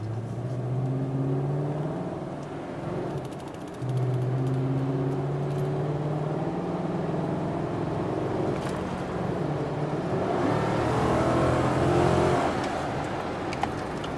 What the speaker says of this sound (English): so you can hear all the noise that this intake makes